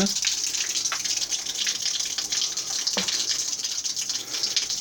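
A MAAS15 battery water pump pumping water and pouring it out, a steady close splashing gush under a high whine, with a few brief clunks and no talk.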